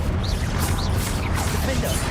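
Blasting Confringo spell effects from the Hogwarts Legacy video game: loud swooshing bursts and crashing impacts follow one another in quick succession over a dense, rumbling game mix.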